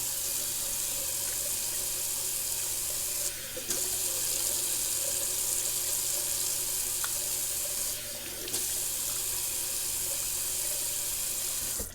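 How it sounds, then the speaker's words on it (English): A tap runs steadily while a shaving brush is rinsed under it, a constant close water rush with brief dips where the flow is interrupted, heard alone without talk. "That was a nice rinse there."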